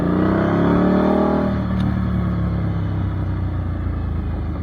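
An Indian Scout Bobber motorcycle engine revs up loudly and close, its rising harmonic whine peaking early before settling into a steady rumbling drone.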